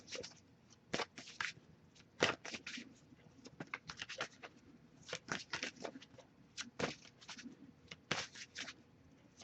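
Tarot cards being shuffled by hand for a reading, heard as a quiet, irregular run of soft riffling snaps and slides with short pauses between bursts. The sound is close but low in level, with no talking.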